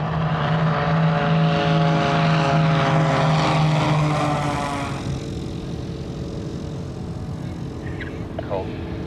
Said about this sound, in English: sit on the flight line again and watch takeoffs and landings